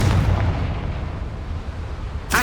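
A Confringo fire spell explodes in the Hogwarts Legacy video game, a loud booming blast with a rumbling tail and a sharp burst at the end.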